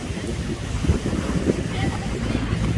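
A boat moves on the sea at sunset, a steady low rumble running beneath buffeting wind on the microphone, continuous and close for a few seconds.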